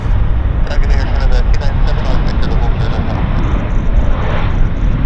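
An airliner rotates early as it takes off at Vancouver airport, and its jet engines give a loud, steady broadband roar that fills the whole clip. People talk over the roar.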